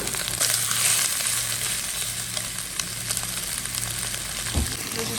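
Beef brisket fat frying in a clay pot with onion gives a steady, close sizzle throughout, with a low hum underneath and a brief scrape or stir near the end.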